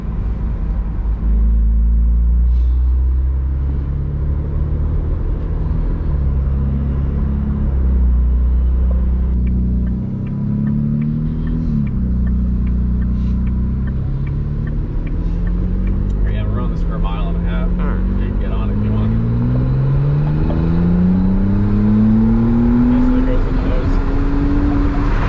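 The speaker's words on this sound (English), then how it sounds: "Especially in automatic, you'll notice it'll definitely try to keep you higher in the revs in track mode." A McLaren Artura in automatic track mode holds its engine high in the revs, a loud, continuous drone whose pitch climbs through gear changes, with someone talking over it from inside the cabin.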